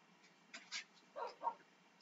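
A dog in the Xbox edition of Minecraft gives a few short, soft whimpers and yips in scattered bursts, faint and thin against a quiet game background.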